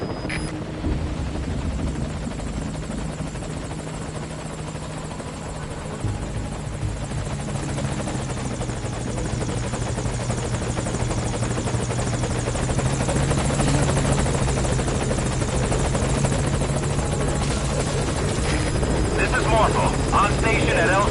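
A helicopter's rotors thrum and buzz steadily as it nears a landing zone, growing slightly louder over twenty seconds, with a low engine drone and faint radio-like voices at times.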